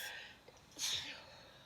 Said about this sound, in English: We've been having a lot of those sneezes where they come on and then they're fleeting